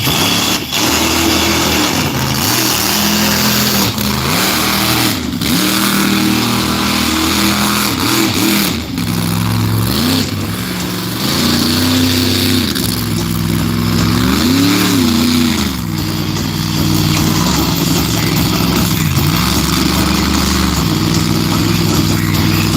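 A monster truck engine at Barona Speedway in Lakeside, California revs repeatedly, its pitch rising and falling in waves over a continuous roar, like a big truck accelerating hard.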